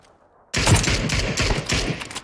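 Rapid bursts of gunfire in a battle royale shooter game start abruptly after a brief near-silence and continue as a dense, loud, overlapping volley with sharp repeated shots, with no talking.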